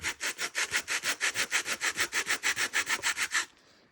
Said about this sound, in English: we've got this piece of scrap leather here. And we'll sand it.